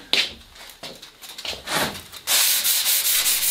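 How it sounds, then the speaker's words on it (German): Sandpaper rubbed by hand over filler on a cast concrete sink, a series of short scraping strokes that turn into a steady, louder continuous rasp near the end, no voices. "Ja, das Ganze mache ich mit der Hand und Schleifpapier, sodass wir letztendlich eine glatte Oberfläche ohne Übergänge haben."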